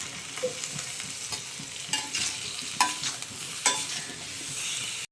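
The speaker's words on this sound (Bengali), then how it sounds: "আর গুঁড়ো মশলাগুলো দিয়ে কষিয়ে নেবো" Vegetables sautéing with ground spices in a pan for a spicy ivy gourd dish, giving a steady close sizzle broken by several sharp scraping stirs.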